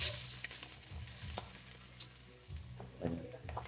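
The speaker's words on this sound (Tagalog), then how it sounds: "So mainit na yung ating kawali. So magigisa na tayo. So unahin natin yung bawang." Garlic sautéing in a hot pan for beef sinigang, cooked outdoors, a steady close sizzle and crackle with occasional stirring scrapes and light clinks, no talk.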